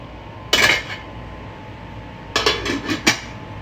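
Metal clanks against a cooking pot of garden beans: one loud clatter, then a quick series of rattling clinks as the lid is set and settled, with quiet background between.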